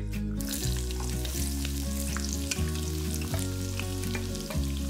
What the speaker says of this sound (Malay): Goreng sampai kekuningan.